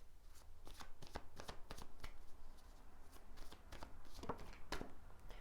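Tarot cards being shuffled by hand in a quick, steady run of crisp riffling flaps and taps, close and fairly quiet, with no voice over it.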